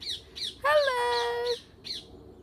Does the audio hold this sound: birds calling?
yes